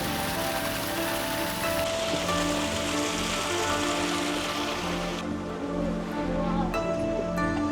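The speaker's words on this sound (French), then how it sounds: "il pleut" Rain falls steadily during a road trip in Japan, a dense, even hiss of drops on surfaces lasting throughout, close and continuous with no one speaking.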